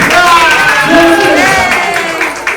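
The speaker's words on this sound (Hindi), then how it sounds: "सबके लिए तालियां, वॉलंटियर्स के लिए" Crowd claps and cheers for volunteers at a charity donation event at AIIMS Delhi, a dense, loud wash of applause with voices calling out over it, sustained throughout and tapering slightly near the end.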